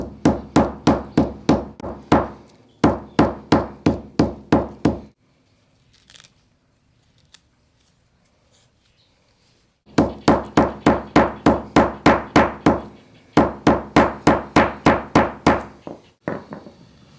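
Rapid, steady hammer blows pounding sinew tendons flat, in bursts of several strikes, close and dull, with a quiet pause in the middle before the pounding resumes.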